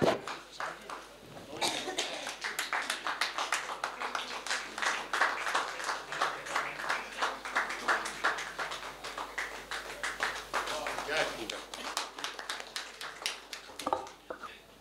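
Sustained audience applause at the Ghazal Kumbh 2025 poetry event in Haridwar, a dense steady wash of many hands clapping for about fourteen seconds, fairly distant and even, tapering off at the end.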